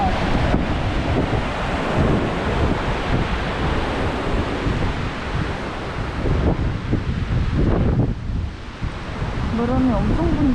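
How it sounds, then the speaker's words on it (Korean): Strong wind gusts roar across an outdoor mountain fortress site in Namhansanseong, Gyeonggi-do, buffeting the microphone loudly and continuously with heavy rumbling, while a voice briefly sounds near the end. "바람이 엄청 분다."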